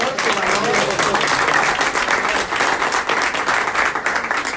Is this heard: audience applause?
yes